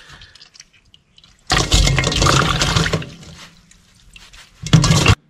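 Seafood rinsed under running water in a kitchen, with two loud splashing bursts of water separated by quieter clinks and handling sounds, close and alone.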